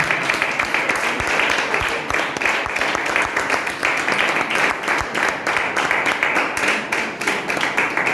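A church congregation claps and cheers together, steady dense applause with rhythmic clapping filling the room, loud and continuous, with voices mixed in.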